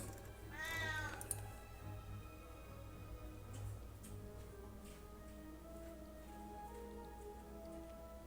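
A cat meows several times, with one prominent rising call near the start and softer mews after, close to the microphone over a steady background hiss.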